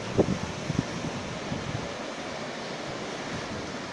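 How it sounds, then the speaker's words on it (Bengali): Steady sea surf rolls in from a fourth-floor balcony overlooking the ocean near Vivekananda Rock, a continuous broad wash of waves with some wind buffeting, plus a few faint knocks near the start. "এই ঘর থেকে সমুদ্র,"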